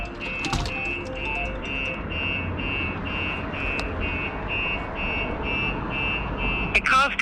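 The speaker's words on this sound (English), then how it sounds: "and set the alarm off." A StarLine S96 alarm fitted to a 2023 Lexus RX500h sounds a steady, repeating electronic beep pattern at close range, with faint background noise and a brief rustle near the end.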